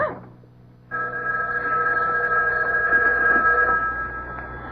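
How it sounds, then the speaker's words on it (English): A house telephone in a radio drama rings with a sustained bright electric bell tone after a brief pause, holding steady for several seconds at close range with no voices over it. "It was the house phone."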